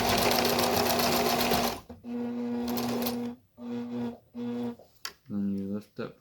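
A sewing machine stitches fabric for a face mask in short bursts, a long steady run followed by several brief runs separated by pauses, loud and close with no talking.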